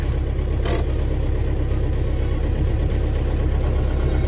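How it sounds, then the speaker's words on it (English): A Cummins diesel engine fitted in a 1997 Jeep Wrangler TJ runs steadily at idle, a close, continuous low rumble with no talk over it. "It is uh, definitely uh, got that sound of a diesel"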